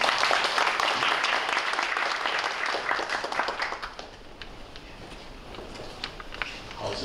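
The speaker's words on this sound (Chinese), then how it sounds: "请掌声欢迎吴校长。" Audience applause at a formal school ceremony as a principal is welcomed to the stage, steady dense clapping from many hands that thins slightly toward the end.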